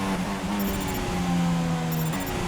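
Race car engine in the F1 2016 video game during an Abu Dhabi career race, a continuous high droning whine that holds steady and shifts pitch slightly as the car slides, loud throughout.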